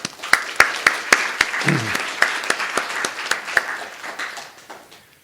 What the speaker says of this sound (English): I'd like to give them all a round of applause, actually.